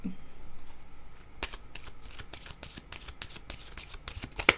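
Tarot cards are shuffled by hand in a quick series of close, crisp riffling flicks, preceded by a brief soft rustle.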